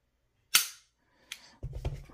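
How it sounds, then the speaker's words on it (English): Dry-fire trigger break of a Glock 19 Gen 5 with the stock trigger: one sharp, loud click, followed by a softer click and then a short rattling reset, all close and with no voices. "Glock 19 Gen 5 with the stock trigger, take up, break,"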